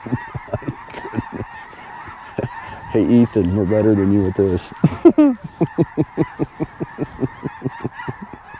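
Snow geese honk in a rapid, repeated chorus during a goose hunt, with a drawn-out wavering call in the middle. The birds sound close and loud, and someone speaks briefly over them.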